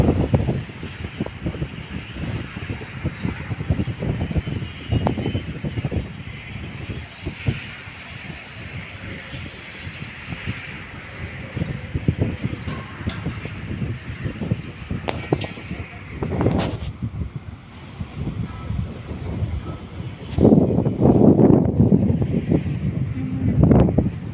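Gusty wind buffets an outdoor microphone on a sunny but cold morning around sunrise, with uneven rumbling thumps and rushing surges that swell louder toward the end.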